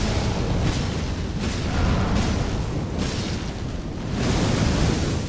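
Fire effect in the Elden Ring video game: a loud, continuous roaring, crackling rush of flame that swells and eases in broad waves throughout, with no voices.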